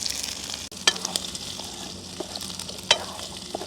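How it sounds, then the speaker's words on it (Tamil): Garlic frying in sesame oil in a village kitchen, a steady bright sizzle with a few sharp scraping clicks from stirring, close and unbroken with no talk. "இந்த உள்ளி வந்து வதங்கினது காணும்"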